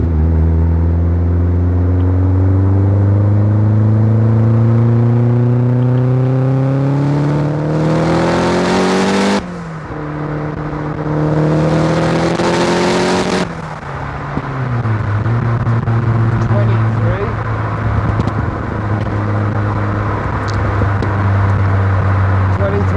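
A turbocharged Mazda MX-5 accelerating hard under boost, engine note climbing steadily through the gears with brief shift breaks, loud and close from inside the car, a voice talking over it.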